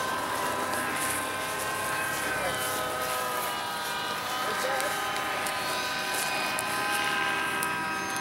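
RC helicopter flying at a spring heli fling event, a steady whining rotor and motor drone with high harmonics, continuous and fairly near, with people talking over it.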